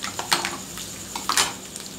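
Garlic cloves sauté in hot oil in a kadai, giving a soft, steady sizzle with a few scrapes and stirring clinks rising above it, close and moderately loud.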